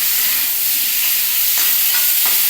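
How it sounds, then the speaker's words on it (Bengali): Potatoes fry in a pan with a loud, dense, continuous sizzle close up, and faint scraping touches occur toward the end. "দেখো এটা সুন্দর ভাজা হচ্ছে"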